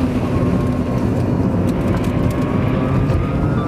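A 2010 Tesla Roadster Sport driving under electric power, heard from inside with a steady, loud road rumble and a faint rising motor whine running underneath, continuous and without speech.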